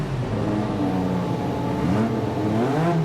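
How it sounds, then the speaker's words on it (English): A 1986 Williams FW11 Honda Formula One car runs at Goodwood, its engine droning steadily and loudly with shifting pitch as it passes, no voices over it. "Karun Chandok took the honour of being the first of the 4 drivers to showcase this historic F1 machine"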